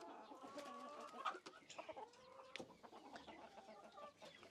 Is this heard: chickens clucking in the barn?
yes